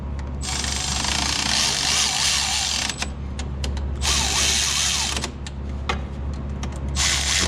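Power drill driving bolts on an electric golf cart motor, a loud continuous whine broken by short pauses and re-triggers, close up with no talking.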